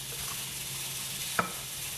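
Omelette batter of milk and corn starch stirred in a bowl, a steady soft swishing throughout with one brief louder scrape or knock near the end.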